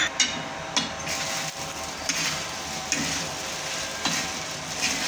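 Sabudana khichdi being stirred and fried in a pan, a steady broadband sizzle with repeated scraping strokes of the spoon roughly every second, close and fairly loud, no voices.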